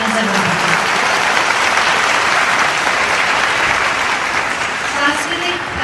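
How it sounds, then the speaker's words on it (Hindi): Loud, sustained applause from a large audience at a cultural program, a dense continuous roar of clapping with some voices mixed in, ending with a brief bit of speech. "मैं आप सबसे गुजारिश करूंगी कि एक बार सभी के लिए जोरदार तालियां जरूर"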